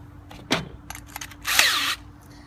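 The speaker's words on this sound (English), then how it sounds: "I took my screw gun" A handheld screw gun whirs in short bursts while working on homemade fire juggling rings, a brief sharp spin followed by a longer, louder drilling run close by.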